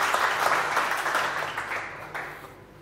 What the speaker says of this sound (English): Please, a short round of applause for our bronze sponsors.